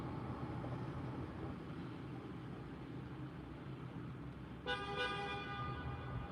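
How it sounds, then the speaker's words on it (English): Car horn honking near an Atlanta airport pickup area, one short clear toot sounding over steady road and engine noise, heard from a vehicle pulling out. "I knew they was gonna start honking horns."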